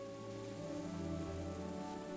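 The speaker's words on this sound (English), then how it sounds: "It started to rain." Cartoon-style rain sound effect as a shower begins, a steady wash of falling drops over a sustained tonal musical bed, moderately loud and continuous with no voices.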